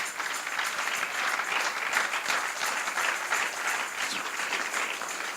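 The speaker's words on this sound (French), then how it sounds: "Acclamons le Seigneur." A church congregation applauds in praise during a sermon, a dense, even burst of many hands clapping for about five seconds.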